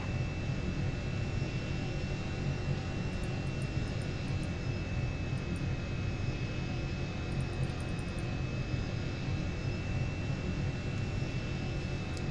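A fixed-wing airplane in X-Plane 6 holds a steady, loud engine roar with a faint high whine and broadband rush throughout, taking off from Dallas/Fort Worth.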